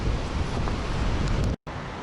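Strong wind roars in continuous buffeting gusts through a park during a severe Utah wind storm with trees falling, loud and close on the microphone, broken by a brief dropout near the end.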